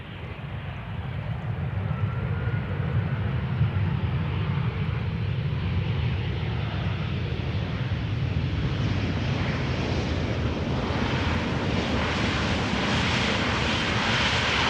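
A Boeing 747 jet arriving at Amsterdam Schiphol Airport, a loud, sustained roar of engines building and holding steady as it passes nearby, with some wind buffeting and no talk.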